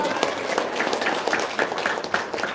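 Audience applause during a talk by Pak Haji, a burst of clapping from a crowd with individual claps standing out, moderately close, with some voices mixed in.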